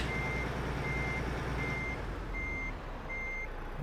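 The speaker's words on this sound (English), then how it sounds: "Let's get rid of that reverser so it's not so annoying" Truck reversing alarm in Euro Truck Simulator 2, five evenly spaced beeps repeating over a steady low diesel engine rumble, moderately loud and close.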